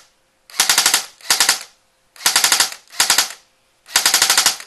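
A Burst Wizard-equipped airsoft gun fires crisp three-round bursts, the trigger pulls running on into longer full-auto strings, five separate rapid clattering volleys with clean silent gaps, loud and close.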